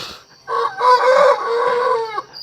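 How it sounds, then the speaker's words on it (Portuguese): A single rooster crows one long drawn-out call, close and loud, standing alone with no talk over it. "Aí, galo, canta, são 3 horas."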